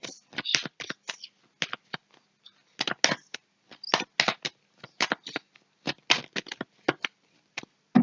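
Tarot cards are shuffled by hand in close, quiet bursts of crisp riffling and patter, dozens of short flurries separated by brief pauses, with no talking.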